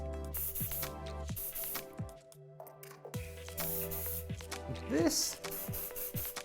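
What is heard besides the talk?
hairspray spraying on hair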